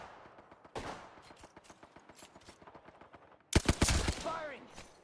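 Video game gunfire in a ranked match: a steady rapid patter of distant shots, then a loud close burst near the end, with voices talking over parts of it.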